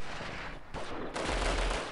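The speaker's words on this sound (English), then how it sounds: "you guys can hear a lot of gunfire" Video game gunfire from Delta Force rattles in a dense, continuous stream of rapid shots that surges louder partway through, with no talking over it.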